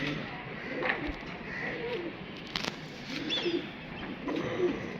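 Pigeons coo in low, soft repeated calls nearby, blending with background chatter and a few brief clicks.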